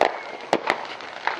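Fireworks exploding outdoors: a few sharp bursts and crackles, one near the start and two close together around the middle, then a later pop, over a steady hiss of background noise.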